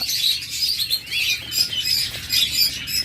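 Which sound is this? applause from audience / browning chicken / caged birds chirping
caged birds chirping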